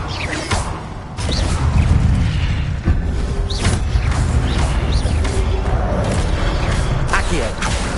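Casting the Incendio fire spell in Hogwarts Legacy produces a loud whooshing burst with a booming roar, followed by sustained crackling rumble and swishy effects, dense and continuous game sound.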